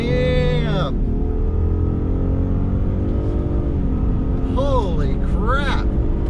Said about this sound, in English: So let's go down to a low speed here and just go wide open throttle, shall we? And flooring it.